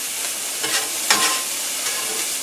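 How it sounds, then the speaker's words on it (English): Food frying steadily in a cast iron pan while being cooked down until translucent, with a continuous close sizzle broken by a few brief stirring scrapes and bursts. "So I'm just going to fry this up a bit till it's translucent."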